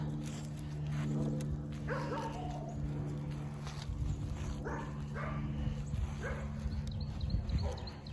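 Two dogs out on a shared two-dog collar outdoors, giving short, faint to moderate barks and yips mixed with whimpering at a distance, over a steady background hum.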